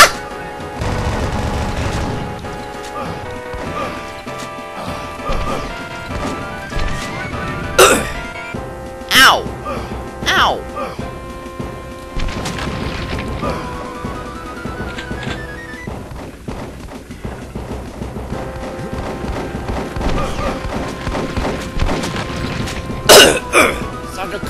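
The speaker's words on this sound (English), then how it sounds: "Coughing. Ugh, I need to clear my throat." A man coughs and clears his throat several times during a blind playthrough of the Sega game Kid Chameleon, the harsh bursts standing out over continuous game music and effects.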